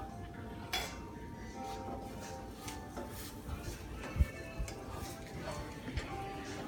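Light clinks and taps of a clean plate being set over a tortilla and turned, several faint scattered knocks with one sharper clack, alongside quiet kitchen sounds.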